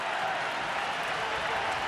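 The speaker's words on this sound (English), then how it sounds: "And the crowd get pumped up" A baseball stadium crowd cheers during a Cardinals–Cubs game at Chicago, a steady, broad roar of many voices and scattered clapping that stays loud and even throughout, with no break.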